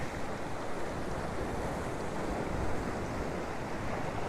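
Ocean waves rolling onto the shore at Hervey Bay at sunset, a continuous broad wash of surf with some wind noise on the microphone, steady and fairly loud with no voices.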